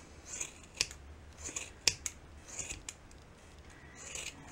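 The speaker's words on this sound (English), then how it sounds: "My scissors are not super fantastic, but they're gonna get the job done." Scissors trim the long strands of a yarn pom-pom for an ornament, giving several sharp, quiet snips at irregular intervals, close by, with no talking.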